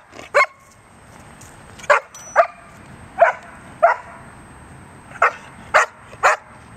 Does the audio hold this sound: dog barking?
yes